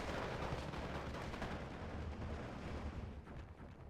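Aircraft strafing gunfire from an F-109 raking an MG-42 position in Steel Division 2, a dense, continuous roar of rapid shots and rumbling impacts that stays loud throughout and fades slightly at the end.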